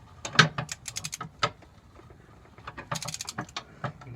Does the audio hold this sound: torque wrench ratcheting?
yes